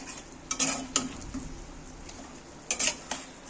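Salted, fatty chicken for biryani is being mixed in a pan. A soft background sizzle runs under several distinct scraping and clinking stirs of a utensil, arriving in short bursts near the start and again toward the end.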